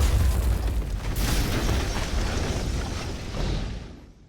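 A massive explosion in an action film rumbles as one loud, sustained, noisy boom lasting several seconds, with a flare of crackling energy partway through before it fades out near the end.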